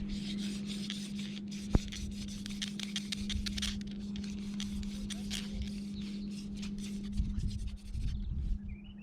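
A wooden hand drill spindle is spun for friction fire-making, giving a steady, close scratchy rubbing with rapid back-and-forth strokes that continues almost without pause, with faint wind in the background.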